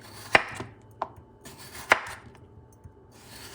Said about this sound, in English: I peel it, and I'm going to cut it in rounds